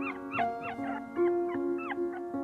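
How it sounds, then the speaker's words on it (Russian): A dog whimpers plaintively in a series of high, wavering whines and yips, repeated about eight times in close succession, heard near and fairly loud with no talking. "мы услышали жалостный стон собаки."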